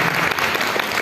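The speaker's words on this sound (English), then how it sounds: "Round of applause." Conference audience applauding after a presentation on circular-economy clothing, a steady dense clapping throughout the brief moment, loud and close with no voice over it.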